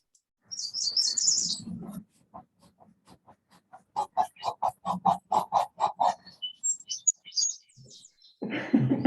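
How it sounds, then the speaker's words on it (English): A noisy bird calls close by in a quiet room, starting with a burst of high chatter, then a run of rapid, evenly spaced squawking notes, followed by scattered chirps and a louder rough call at the end. "Noisy bird."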